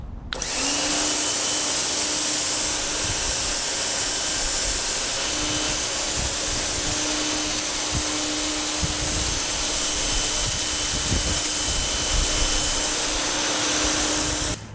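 A Ryobi pressure washer sprays hard through a nozzle, a loud, continuous hissing rush with a steady motor tone underneath that runs unbroken and close for the whole stretch.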